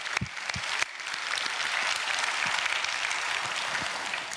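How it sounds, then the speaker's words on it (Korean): A church congregation applauds during a service, starting with a few scattered claps that build into sustained, even applause filling the room. "천국을 예비하신 주님께 큰 박수합시다."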